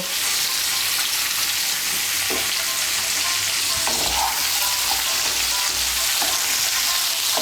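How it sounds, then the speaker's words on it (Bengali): Vegetables for Bengali sukto sizzle loudly and steadily in a pan as salt is stirred in, with occasional spatula scrapes and clinks over the constant frying hiss. "নুনটা সবজির সঙ্গে ভালো করে মিশিয়ে নেব।"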